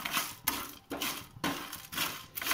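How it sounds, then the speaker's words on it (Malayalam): Whole spices for garam masala being stirred in a pan, with a spoon scraping and rattling through dry seeds and bark in repeated bursts about every half second, close and fairly quiet. "അപ്പോൾ ഇനി ഇത് നന്നായി ഇളക്കി കൊടുക്കാം."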